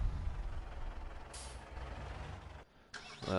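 A truck's air brake releases a sharp, brief hiss over a low rumbling engine idle in Farming Simulator 19, followed by a short pause and then more mechanical noise.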